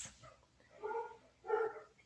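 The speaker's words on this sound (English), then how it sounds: "I'm sorry about my dogs, guys, if y'all can hear them barking." Dogs barking indoors during a home meditation recording: two muffled barks about half a second apart, faint and somewhat distant, against a quiet room background with no speech.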